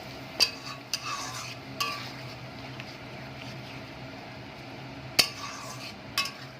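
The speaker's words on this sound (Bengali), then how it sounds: "সব কিছু একসাথে ভালো করে কষবো" Katla fish curry with potatoes being stirred and fried down in a pan, a low steady sizzle with a few sharp spoon-on-pan clinks scattered through it.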